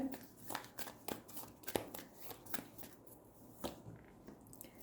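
Tarot cards shuffled and drawn during a weekly horoscope reading, giving a run of soft, quick card flicks and slides, close and fairly faint, repeating in short bursts.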